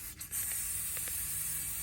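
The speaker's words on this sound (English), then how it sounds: "So I'm just gonna spray this a little bit" Brake cleaner sprayed onto a car driveline part with a steady close hiss running through the clip, briefly interrupted near the start, during a 2023 Volvo XC90 differential and AWD fluid change.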